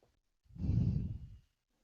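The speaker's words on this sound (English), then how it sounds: "We're hearing lots of breathing." Heavy breathing into a close microphone, one long audible exhale swelling and fading over about a second, loud and near with no talk.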